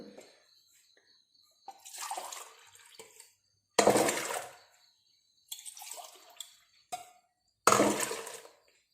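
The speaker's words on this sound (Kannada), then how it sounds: "ಇದಕ್ಕೆ ನಾನೊಂದು 3 ಲೋಟದಷ್ಟು ನೀರು ಹಾಕ್ತೇನೆ" Water poured from a large glass onto ground wheat in a vessel, about three separate glassfuls: loud close splashing bursts separated by brief quiet gaps, with lighter trickles and drips between.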